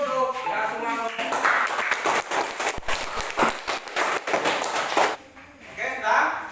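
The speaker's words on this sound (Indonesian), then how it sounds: "sekali lagi tepuk tangan dulu untuk semua kelompok" A classroom of students clapping for all the presentation groups, dense rapid hand claps for several seconds with a voice speaking at the start and end.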